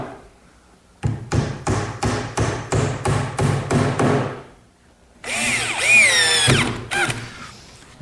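A power drill pre-drills screw holes in oak for a bathroom vanity, giving about ten short, rhythmic bursts close by, followed by a longer sustained whining drill run that stops abruptly, with no talking.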